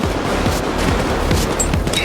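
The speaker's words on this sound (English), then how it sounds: "Plenty of gunfire out in the main lobby here." Dense, continuous rapid gunfire fills the main lobby in the heist game Payday 2, loud and close with overlapping shots and low booms.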